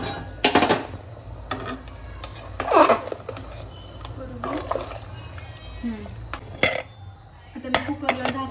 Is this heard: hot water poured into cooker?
yes